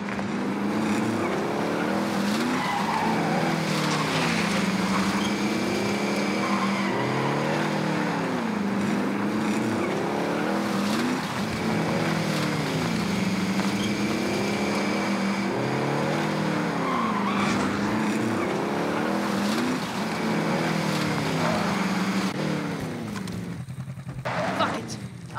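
A vehicle driven in Call of Duty Warzone battle royale, its engine droning steadily and loudly with rhythmic rising and falling revs throughout, while game radio voices speak over it.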